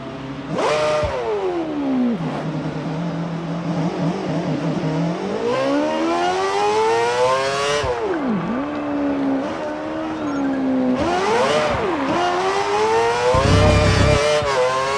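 F1 car from the racing video game F1 2017 (Xbox 360): a high engine whine climbing and dropping through gear shifts, loud and continuous, with a brief burst of noise near the end that could be the tyre blowout.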